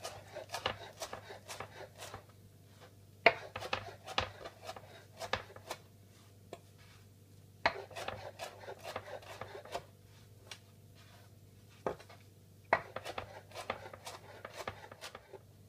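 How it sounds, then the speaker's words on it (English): A knife rough-chops cilantro on a board with quick scraping, rasping cuts in short irregular bursts and brief pauses, close and fairly quiet. "I'm going to rough chop my cilantro."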